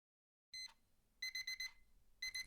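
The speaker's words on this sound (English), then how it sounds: "please turn off that alarm. It's making a terrible noise" An alarm clock rings in repeated bursts of high, bright electronic beeping, starting after a brief silence and returning in clusters, fairly loud and close.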